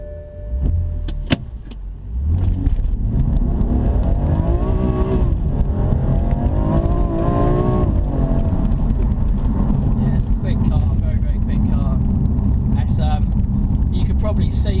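BMW M4 Competition in Sport Plus mode launching hard: after a brief quiet start, the engine bursts in loud and close, climbing in pitch through sustained acceleration, with someone talking over it.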